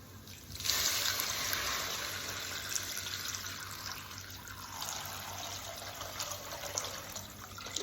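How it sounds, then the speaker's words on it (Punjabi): A ladle of water poured into fried masala in a pan while making a bottle gourd kofta curry, a sudden rushing hiss that settles into a softer bubbling simmer, close and alone. "ਹੁਣ ਆਪਾਂ ਇਹਦੇ ਵਿੱਚ ਇੱਕ ਡੋਂਗਾ ਪਾਣੀ ਦਾ ਪਾਵਾਂਗੇ"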